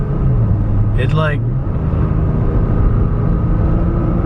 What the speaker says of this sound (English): so much quicker, earlier, doesn't run to like high RPMs before shifting